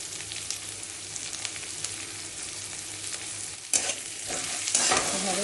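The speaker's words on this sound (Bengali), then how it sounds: "এভাবে সব একসাথে ভেজে নিচ্ছি।" Boiled lesra frying with turmeric and salt in a pan, a steady close sizzle running throughout with scraping stirs on top and a louder spatula scrape near the end.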